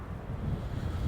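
Wind buffeting a microphone outdoors beside a football stadium construction site, a short low rumbling roar that fluctuates slightly in strength, fairly faint.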